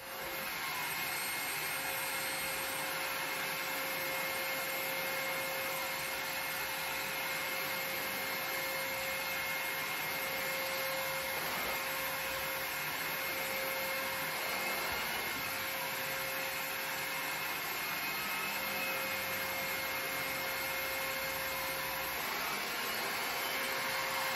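A Perfect C105B vacuum cleaner runs steadily on carpet for the full stretch, a constant airy roar with a fixed whine tone and slight rubbing variations, heard alone.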